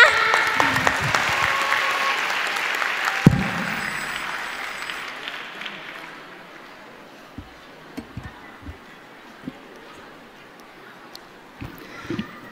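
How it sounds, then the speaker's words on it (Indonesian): An audience at a seminar hall talk claps loudly at first, then the applause fades out into near quiet with a few scattered taps and knocks. "Tepuk tangannya mana?"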